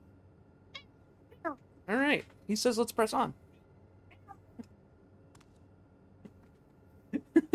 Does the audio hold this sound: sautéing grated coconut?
no